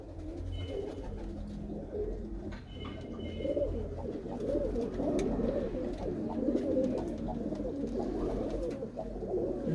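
Pigeons coo softly and continuously, a low rolling murmur from several birds close by in a loft, with a few faint chirps above it and no speech.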